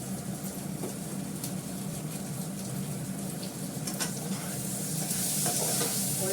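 Cumin seeds sizzling in hot oil for tempering, a steady close crackling fry with occasional stirring clinks, growing slightly brighter and louder toward the end.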